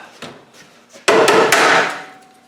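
A hammer striking metal on an old Land Rover 109 where bolts have snapped off: a few faint knocks, then a sharp, loud metallic bang followed by ringing blows that die away slowly, with no talk.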